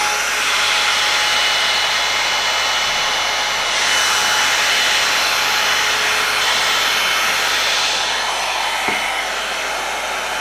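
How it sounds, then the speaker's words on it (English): A Hot Tools round brush hair dryer blows with a steady, loud, even whoosh and whine for the whole stretch, close up and alone with no talking. "round brush hair dryers, just this one, that's Hot Tools"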